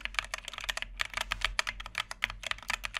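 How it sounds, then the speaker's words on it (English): Computer keys are pressed in quick, uneven bursts of close, crisp clicks, as a microphone picks them up. The typing runs continuously with brief pauses between clusters. "it definitely picks up the key presses"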